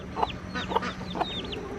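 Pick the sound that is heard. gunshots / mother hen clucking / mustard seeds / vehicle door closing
mother hen clucking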